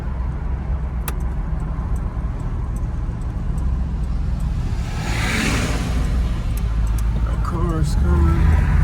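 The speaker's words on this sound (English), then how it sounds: "Motor sounds good." A 1980 Chevrolet Malibu's motor runs steadily while driving, a continuous low road-and-engine rumble that swells slightly near the end as a passing car whooshes by, with someone talking over it throughout.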